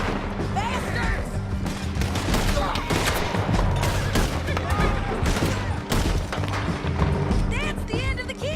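Dense, loud gunfire in Red Dead Redemption 2 during a canyon shootout on horseback, rapid overlapping shots in a continuous barrage with shouting voices and action noise throughout.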